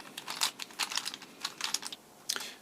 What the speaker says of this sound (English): I'm going to get this scrambled and then cut back in when we're ready to start solving.